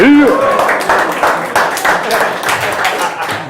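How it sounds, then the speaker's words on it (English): An audience at a startup pitch event breaks into loud, dense applause with cheering, following a brief voice at the start and continuing steadily to the end. "Round of applause!"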